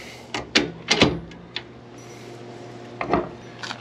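Metal door on a Lonestar Grillz El Patron grill being worked, a few sharp clanks and scrapes in two clusters over a steady low hum, close and fairly loud.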